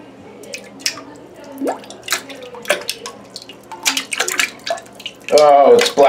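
Thick gravy drips and splashes into a toilet bowl in irregular plops, ending with a louder pouring gush, close by.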